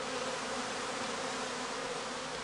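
Cast of honeybees swarming near pine trees, a dense continuous buzzing hum that stays steady and fairly loud throughout with no voices.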